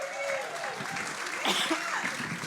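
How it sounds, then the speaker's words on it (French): A church congregation at a pastors' five-year service celebration claps in warm, continuous applause, with a few scattered voices and light laughter mixed into the clapping. "On les applaudit."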